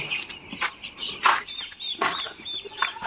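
Chickens cluck and squawk in short, irregular bursts, several birds calling close by in an enclosed space with a steady background hum.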